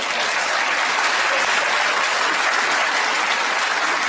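Studio audience at a panel comedy show clapping, a steady dense burst of applause from a sizable crowd, continuous and even throughout.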